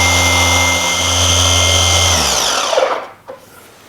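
A car polishing machine runs on scratched gloss black trim, a steady high-pitched motor whine with buzzing harmonics that spins down over the final second before a few soft handling knocks.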